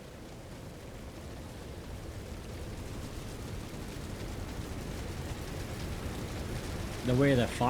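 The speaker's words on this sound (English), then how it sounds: "a light rain" Soft, steady rain in the video game Skyrim hisses evenly throughout, a light continuous patter; near the end a voice briefly starts speaking over it.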